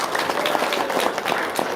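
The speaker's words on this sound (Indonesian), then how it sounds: "Tepuk tangan dong." Audience clapping at a religious talk in Indonesia, a dense steady patter of many hands filling the short stretch without pause.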